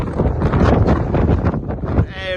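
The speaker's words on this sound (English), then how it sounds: "it is so windy. It is unreal." Strong gusts buffet the microphone on the beach below the cliffs at Cromer, a loud continuous roar with rushing bursts that fills the whole clip and eases near the end.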